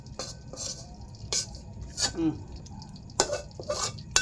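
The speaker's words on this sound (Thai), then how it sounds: "ผัดผัก ใส่น้ำมันเก่านี่แหละน้ำมันกิโล" Vegetables being stir-fried in a pan with old, reused cooking oil, with a spatula clanking and scraping against the metal in irregular bursts, close and moderately loud.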